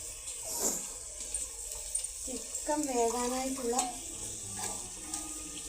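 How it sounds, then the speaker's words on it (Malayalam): Water being added to a pan of cooking chicken curry, a brief splashing pour that leads into soft stirring and sizzling, with a voice speaking over it. "ചിക്കൻ വേകാനായിട്ട് ലേശം വെള്ളം ചേർത്ത് കൊടുക്കാം"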